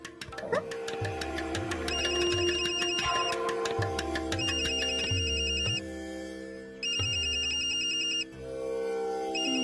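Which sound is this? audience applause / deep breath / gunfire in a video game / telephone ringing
telephone ringing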